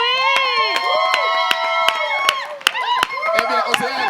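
A crowd at a French live event cheers, shouts and claps loudly, with children's voices and regular sharp claps running through the cheering for several seconds.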